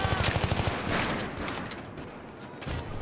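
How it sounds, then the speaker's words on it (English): Rapid automatic gunfire in a Battlefield 3 multiplayer match, dense bursts of shots rattling off in quick succession at fairly close range, with a faint voice underneath. "I just shot the guy in the face"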